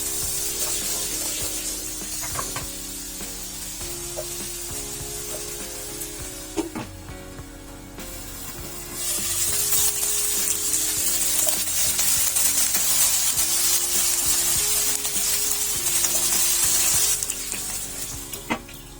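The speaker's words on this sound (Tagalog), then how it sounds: "ilagay na natin dito yung ating mga patatas" Small cut potatoes frying in hot oil in a pan, with a steady loud sizzle, occasional stirring clatter and a hiss that swells partway through.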